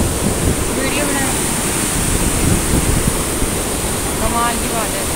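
River water rushing between two big stones in a wide mountain river at Manikaran Sahib, Himachal Pradesh: a loud, dense, continuous roar close to the microphone.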